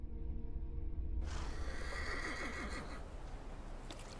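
A horse whinnies loudly in the video game The Thaumaturge, a long, shaky neigh that rises and falls over game ambience and a low rumble, with no talk over it.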